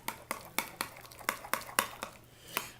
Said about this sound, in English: And I'm just going to mix that in.